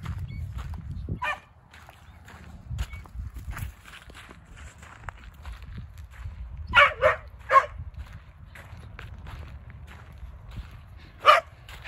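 Dog stuck inside a cage, giving scattered whimpers, yips and short barks over several seconds, fairly close, with shuffling footsteps and movement noise between the cries.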